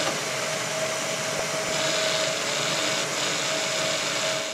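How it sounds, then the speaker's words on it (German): A power drill with a 5.5 mm bit bores into a nut clamped in place, giving a steady, loud, continuous whine that holds an even pitch without pause. "Die Mutter habe ich jetzt hier eingespannt und dann bohren wir mal munter drauf los."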